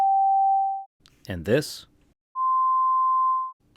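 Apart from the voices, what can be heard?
synthesized sine tones of string overtones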